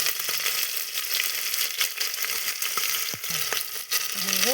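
Whole cinnamon sticks, green and black cardamom and bay leaves fry in hot oil for an Indian curry. A steady close-up sizzle runs throughout, broken by scattered small pops and clicks.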